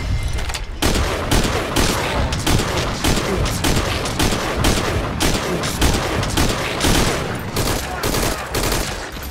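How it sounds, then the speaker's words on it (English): Dense, sustained gunfire from a firefight in the Metal Gear Solid V: Ground Zeroes video game, loud rapid bursts and shots overlapping continuously throughout with no pause. "We've got unidentified gunfire."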